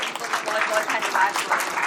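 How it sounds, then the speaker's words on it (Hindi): Audience applause for guests at a Hindi memorial literary gathering, the Dwivedi Mela remembrance ceremony at Daulatpur, a steady wash of clapping filling the whole short stretch with no pause. "जोरदार तालियां इनके लिए"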